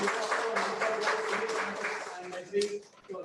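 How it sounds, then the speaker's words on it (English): An audience applauds after a talk session, with dense, steady clapping that fills the whole stretch and swells briefly near the end. "So can you clap for them?"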